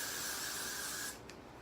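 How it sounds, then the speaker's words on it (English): Hairspray hisses onto teased, backcombed hair in one steady burst of about a second, close and fairly loud, then cuts off into near quiet with a faint brief puff after. "Spray it up."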